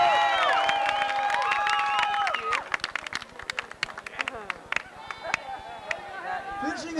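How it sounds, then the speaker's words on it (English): Crowd at a backyard motocross trophy presentation claps and cheers, a dense burst of applause with whoops that thins into scattered claps, while talk and voices carry over it throughout. "Big round of applause for him."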